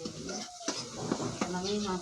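Onions sizzle in a pan while being stirred, with scraping and clanking of a utensil against the metal over a constant frying hiss, and brief speech mixed in.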